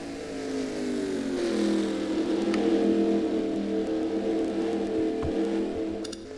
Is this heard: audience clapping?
no